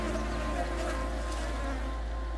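Flying insects buzz steadily in the Scottish wild, a continuous close drone of wings that holds at an even level throughout.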